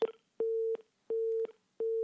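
A telephone busy tone after a radio call-in line drops, three evenly spaced steady electronic beeps, clear and close with no talk.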